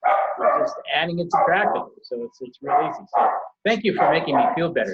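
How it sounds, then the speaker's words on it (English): A dog barks at home in the background while someone talks steadily, with short barks mixed in under and between his words. "Sorry about the dog."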